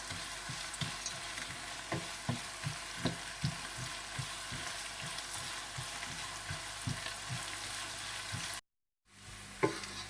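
Whole dried red chillies, green and black cardamom, cinnamon, cloves, black peppercorns and cumin seeds frying in hot oil in a pot, a steady crackling sizzle broken by soft rhythmic scrapes of a spoon stirring, then a brief pause.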